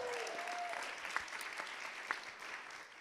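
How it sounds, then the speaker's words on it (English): An audience at a conference panel on book bans and literary freedom applauds an introduction, steady crowd clapping at moderate distance, with a short tonal squeak near the start. "We should just applaud for that."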